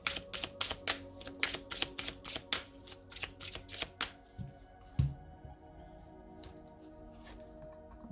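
Tarot cards are shuffled close up in a rapid series of crisp riffling bursts for about four seconds, followed by a few soft handling taps and quiet.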